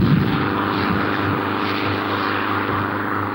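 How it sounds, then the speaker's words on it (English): A propeller aircraft drones steadily at Halfpenny Green Airport, a loud, continuous engine and airscrew hum with no break. "A delay while the aircraft rush hour took place set the parachutists back"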